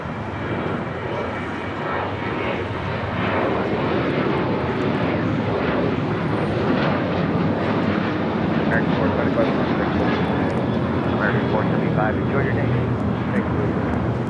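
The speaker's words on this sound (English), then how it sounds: "we got our first takeoff of the stream" A fixed-wing airliner takes off from LAX bound for Chicago O'Hare, its engines giving a steady, loud, broad roar that holds throughout.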